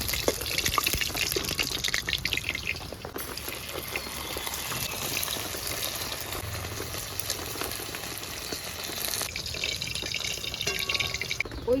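Food frying lightly in oil for homemade chicken chow mein, a steady soft sizzle and bubbling that runs close and continuous with no talking.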